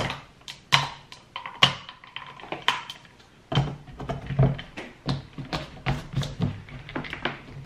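Three ice cubes drop into a glass of water for a powdered energy drink, heard as a string of sharp clinks and knocks at irregular intervals, close and fairly loud, with other small handling taps and no talk.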